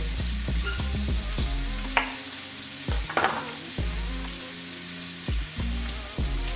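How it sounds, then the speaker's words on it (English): A chuck roast searing in a hot pan, a loud, close, continuous sizzle with a low rumbling hum underneath, broken by several clanks and scrapes of a utensil against the pan; no talking. "Turn my chuck roast over. Keep it nice and brown."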